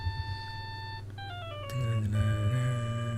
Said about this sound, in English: All of a sudden, the phone began to ring.